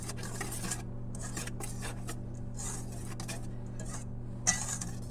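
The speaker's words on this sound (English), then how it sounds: "So I'm just going to kind of mix all that" Cake batter ingredients with a pinch of salt stirred in a bowl for a whipped cream cake, making steady close scraping and clinking strokes against the bowl over a low background hum, with no talking.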